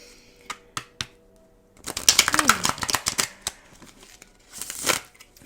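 A Thoth tarot deck shuffled by hand, giving a few sharp isolated card taps and then a dense fluttering riffle of crisp card slaps, close and fairly loud.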